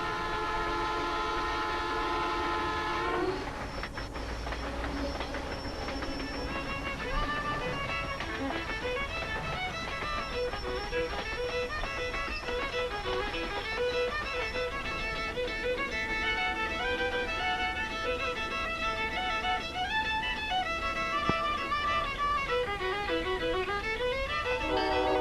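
A long-distance passenger train with sleeping cars sounds a steady horn for a few seconds, then rolls on with a continuous rumble and clatter while further horn tones rise and fall throughout.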